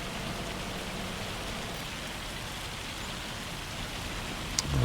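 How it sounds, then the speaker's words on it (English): Heavy rain pours steadily in the Farming Simulator 25 video game on a Tillamook, Oregon map, a dense, even hiss of drops on surfaces that stays constant throughout, with a small knock near the end. "Wow, this really is raining cats and dogs."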